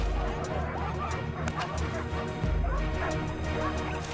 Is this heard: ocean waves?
no